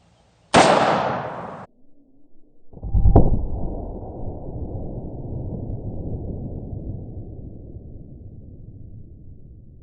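Two loud, sharp gunshots from a 1953 Smith & Wesson Pre Model 27 revolver firing a jacketed lead load. The first blast is short; the second rings out with a long reverberant tail fading over several seconds.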